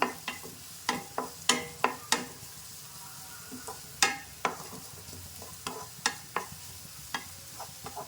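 Fresh grated coconut roasts in a pan for a prawn and breadfruit curry, faintly sizzling as a spoon stirs it with sharp, irregular scrapes and taps close by, no voices.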